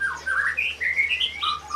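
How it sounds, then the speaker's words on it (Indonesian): A caged Poksai Mandarin bird gives a series of clear, whistled chirps that rise and fall in quick phrases, close and distinct over a low steady hum. "Poksai Mandarin ini"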